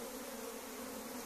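A dense, continuous buzz of roughly two thousand stinging honeybees comes from a mug as they are transferred into a hive, heard up close and fairly soft, with no voices.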